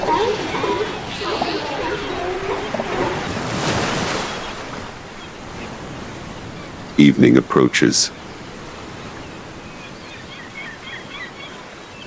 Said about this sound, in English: The wind calms, though the waves still crash.